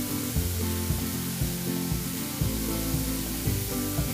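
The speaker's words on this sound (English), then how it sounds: "Saute for another 30 seconds, and then add all the vegetables like the cabbage and the carrot." Cabbage, carrot and other vegetables for a masala dosa filling sauté in a hot pan, giving a steady, even sizzle and hiss that runs throughout without a break.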